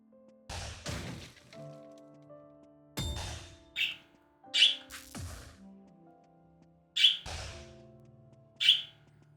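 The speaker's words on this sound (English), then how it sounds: "Oh, listen to those happy birds." Bright bird chirps from the video game Wizard of Legend ring out in short, isolated calls, spaced between sharp thwacking impacts and low sustained game tones.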